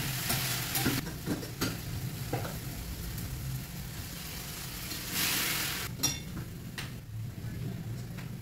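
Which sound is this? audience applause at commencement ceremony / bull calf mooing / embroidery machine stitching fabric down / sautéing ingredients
sautéing ingredients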